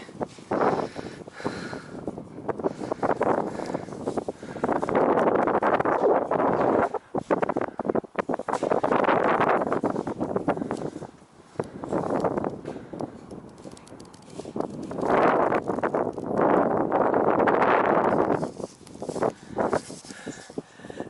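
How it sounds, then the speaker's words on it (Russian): Powerful gusts of wind buffet the microphone in repeated surges at the old minaret of Koshkeldy, roaring loudly then easing briefly between blasts, with no talking. "тут очень сильный ветер"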